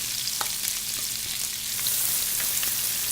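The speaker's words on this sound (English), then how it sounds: "You want that onion to caramelize." Chopped onion sizzles and crackles in hot bacon grease in a pan, with a steady frying hiss and occasional scrapes of stirring, close and continuous with no talk.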